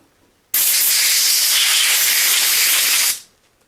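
A close, loud burst of compressed air blowing on a Trek 6500 mountain bike during a reconditioning, a single steady hiss of about two and a half seconds that stops abruptly.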